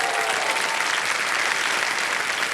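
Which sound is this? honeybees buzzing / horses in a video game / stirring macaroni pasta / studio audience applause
studio audience applause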